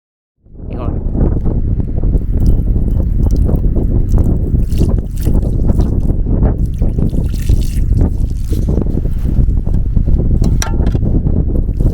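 Loud, constant wind buffets and roars against the microphone throughout, rumbling heavily without letup after a brief silent start.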